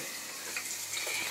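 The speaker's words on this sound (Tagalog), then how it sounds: "ginigisa ko na po ngayon yung sibuyan" Chopped onions sautéing in a pan as the base for sardines with pechay, a soft, steady sizzle with faint scraping of a spatula, low and continuous, with no talk.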